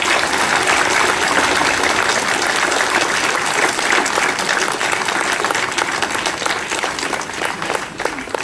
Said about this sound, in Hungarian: Egy nagy tapsot kérek a nyelvvizsgát szervezett tanulóinknak.